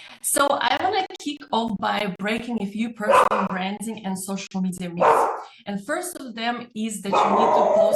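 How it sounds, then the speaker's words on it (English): A dog barks in the background of an indoor room, with its yaps mixed under continuous speech from a person talking close by. "Oh, that's the dog."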